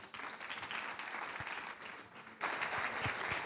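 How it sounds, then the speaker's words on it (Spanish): Audience applause at a health talk, sustained broadband clapping from a crowd for the full stretch, swelling louder near the end, with no voices over it. "Un aplauso, por favor."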